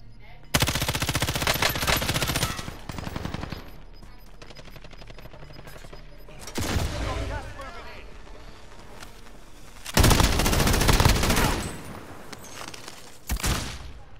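Bursts of automatic gunfire in a shooter video game, loud volleys separated by quieter stretches, with game voice lines or a player talking in between.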